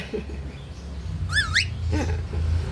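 A bird gives a few rising and falling whistled notes over a low engine-like hum, with a brief chirp following shortly after.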